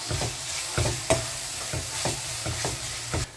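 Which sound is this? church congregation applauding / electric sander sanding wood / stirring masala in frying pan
stirring masala in frying pan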